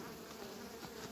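Honeybees buzz steadily around an open hive, a dense, continuous hum with no talking.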